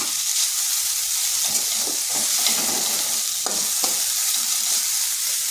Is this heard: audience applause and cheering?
no